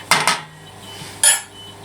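Sausages flipped in a frying pan for a sausage-and-mash dinner: two quick metallic clatters close together, a short pause, then another single scrape-and-clank of utensil on pan, close and fairly loud with no talking.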